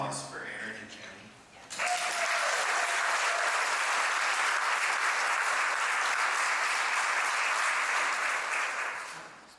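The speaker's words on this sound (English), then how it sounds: "if we could just really give another round of applause for Aaron and Jenny" An award ceremony audience bursts into sustained applause, loud and dense from many hands, continuing for several seconds right after a speaker's voice.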